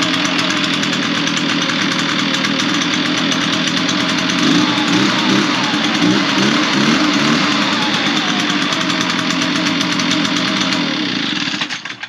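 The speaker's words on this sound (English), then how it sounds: "Now my blower here, my 580T, this thing fires up all the time." A 580T backpack leaf blower engine running in cold weather, a loud, close, rough, steady drone with a pulsing knock partway through that cuts off at the end.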